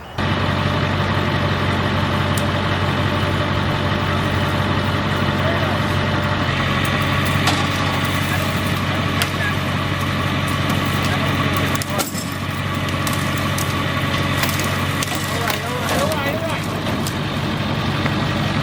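A winch drags a stuck vehicle's nose sideways past a tree, a loud, steady mechanical drone with engine rumble that holds unbroken throughout and dips briefly near the middle.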